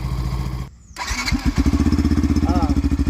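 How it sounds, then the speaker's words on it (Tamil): A Yamaha FZS motorcycle engine cuts out, then kicks back to life and settles into a loud, steady, rhythmic exhaust putter close by. "இப்போ வந்து அந்த டீலக்ஸ் பைக்கில் உள்ள சவுண்டை கேளுங்க"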